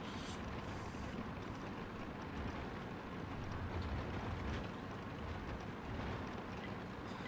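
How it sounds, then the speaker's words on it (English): A BT-7 tank reversing in a video game, a steady rumbling engine and track drone held at constant loudness throughout, with no voices. "So this is driving backwards"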